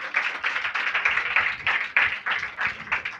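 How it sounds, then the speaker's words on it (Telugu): Church congregation clapping hands together in a steady rhythmic beat, a crowd of many hands at moderate loudness, with no talking heard. "చప్పట్లు కొట్టండి"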